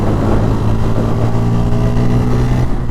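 A Bajaj Pulsar N160 motorcycle is ridden and accelerated, its engine droning loud and close with a steady low throbbing tone that holds and climbs slightly before cutting off at the end.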